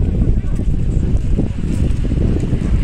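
Steady wind on a hot seaside beach buffets the microphone with a dense, low rumble that never lets up, while someone talks over it.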